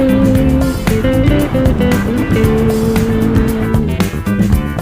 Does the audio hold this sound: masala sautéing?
no